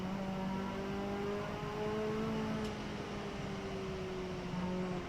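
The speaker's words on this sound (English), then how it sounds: "Listen to that car." A racing car engine in the Assetto Corsa driving game holds a steady, buzzing drone whose pitch slowly sinks and rises, heard continuously over road and wind noise without speech.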